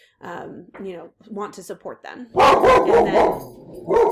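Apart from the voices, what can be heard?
dog barking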